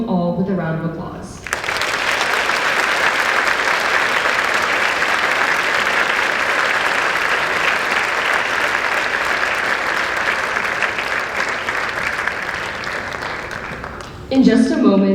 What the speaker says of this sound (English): Please join me in thanking them all with a round of applause.